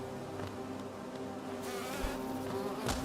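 Steady insect-like buzzing from a Cannon Bee enemy in Hollow Knight, droning continuously at moderate volume for the full stretch with a few brighter swells and game ambience underneath.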